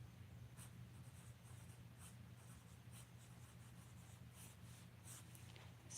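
Faint, quiet scratching of a pen or pencil writing on paper, in short strokes with brief pauses, close by in a silent room.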